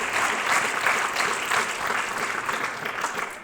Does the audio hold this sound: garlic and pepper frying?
no